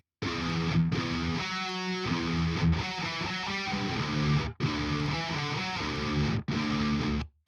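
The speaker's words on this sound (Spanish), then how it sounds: "Acá tenemos la guitarra en crudo sin ninguna edición, como se grabó, para que la escuchen." A raw, unedited electric guitar recording with heavy distortion plays dense sustained chords in phrases broken by short stops, loud and alone without voices.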